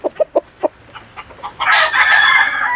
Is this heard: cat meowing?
no